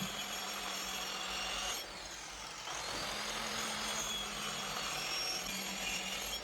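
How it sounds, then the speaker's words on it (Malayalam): Wood is being cut for a homemade chappal stand, giving a continuous close rasping saw noise that stops briefly partway through, then carries on steadily with no speech. "ഷാർപ്പായിട്ട് കട്ട് ചെയ്തെടുക്കുന്നുണ്ട്"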